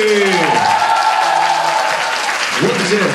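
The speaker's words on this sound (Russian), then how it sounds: "Аплодисменты!" Applause from a hall audience after a girls' performance at a Maslenitsa concert, a continuous, fairly loud patter of many hands, with some tonal sounds and voices drifting over it.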